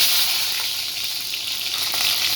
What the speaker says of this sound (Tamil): பாருங்க இப்போ கடுகு பொறிஞ்சிருச்சு கடுகு கடுகு வெந்தயம் சீரகம் இப்போ வந்து பூண்டு போட்டு